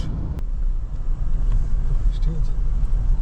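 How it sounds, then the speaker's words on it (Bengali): A car cruises at around 100–110 km/h on the empty Durgapur Expressway, heard from inside as a steady, loud low road and engine rumble that holds for the whole stretch. "আমাদের গাড়িও চলছে 100-110।"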